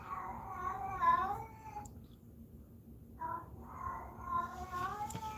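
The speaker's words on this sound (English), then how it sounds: "My cat making noise when I'm doing this is a sign" A house cat meows repeatedly from close by, with drawn-out, wavering cries separated by short pauses against a quiet indoor background.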